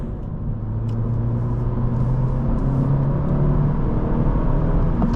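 A 2019 Honda Civic Sport 1.5T with a six-speed manual transmission is being driven. It gives a steady, close engine drone and a low rumble of road noise inside the cabin, with the engine building gently as it pulls.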